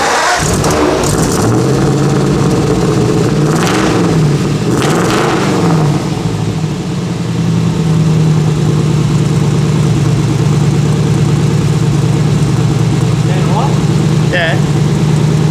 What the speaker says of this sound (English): We'll fire it up, see what the exhaust sounds like.